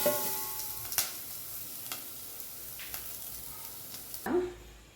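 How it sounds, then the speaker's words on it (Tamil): Soft, steady sizzling of spices frying in a pan for rasam, with a few sharp clinks and a louder scrape near the end. "இது நல்லா ஃப்ரை ஆகணும் ஒரு நிமிஷம்"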